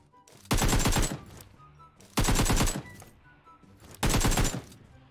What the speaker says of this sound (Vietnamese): Em bắn cái khẩu súng phóng tên lửa ấy á.